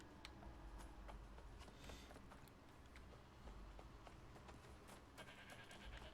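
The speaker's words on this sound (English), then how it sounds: "That's another goat." A goat in the video game New World bleats over a busy backdrop of game ambience and footstep-like clatter, the calls short and moderately close.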